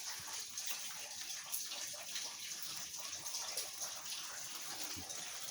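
Indoors after Hurricane Ian, leaking water runs steadily, a soft continuous trickle and splash like water falling into buckets. It is fairly quiet and unbroken, with no speech.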